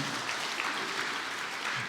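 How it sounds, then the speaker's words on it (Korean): A church congregation at a Sunday service claps together in a soft, even, continuous patter heard from some distance. "우리 한번 박수 한번 치고 시작했으면 좋겠어요"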